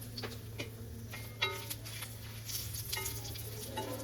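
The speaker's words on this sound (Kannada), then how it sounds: "ಸೊ ಈಗ ಬ್ಯಾಡಗಿ ಮತ್ತು ಗುಂಟೂರು ಚಿಲ್ಲಿಯನ್ನು ಹುರ್ಕೊಳ್ಳುವ" Byadagi and Guntur chillies roast in coconut oil in a pan for a fish curry, giving a faint, steady sizzle broken by light stirring clicks and taps, with no one speaking.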